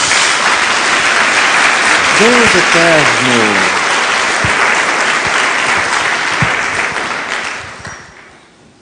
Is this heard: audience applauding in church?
yes